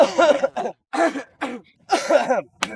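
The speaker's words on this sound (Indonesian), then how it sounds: "Pada batuk" Several people cough in quick succession, with short bursts and throat-clearing sounds separated by brief pauses, close to the listener and fairly loud.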